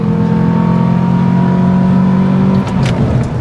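A Renault Twingo RS engine drones steadily at high revs on a track, loud and close, easing off near the end.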